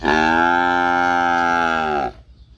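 A single long, loud moo from a Holstein Friesian heifer holds steady for about two seconds, then cuts off into quiet background.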